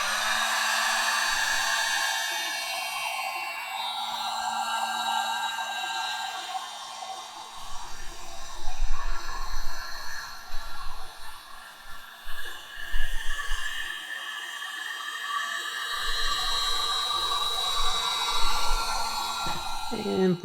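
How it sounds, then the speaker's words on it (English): A heat gun blows steadily on a wax-coated leather bottle, a continuous airy roar with a faint motor tone, close and fairly loud, with a voice talking over it and occasional shifts as the gun moves. "We're going to go ahead and hit it with the heat gun and get it to soak in."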